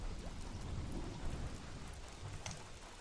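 Steady rain in the survival video game Don't Starve Shipwrecked, a dense, even patter of drops with a low rumble beneath and no voices.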